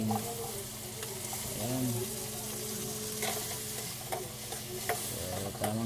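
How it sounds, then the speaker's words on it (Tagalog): Onions and tomatoes sautéing in a pan for potchero with tulingan fish: a steady close sizzle with occasional stirring scrapes and clinks, while someone speaks briefly over the cooking. "gisahin na natin ang ating lahok, sibuyas, kamatis"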